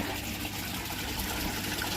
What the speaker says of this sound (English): there's a little bit of water coming out